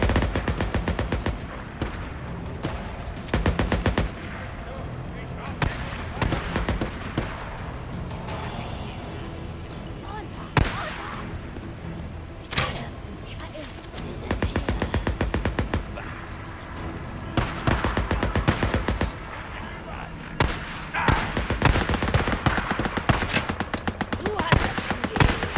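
Rapid bursts of gunfire from the video game Days Gone crackle through a zombie fight, with scattered single shots and sustained automatic volleys at moderate distance over steady background game noise.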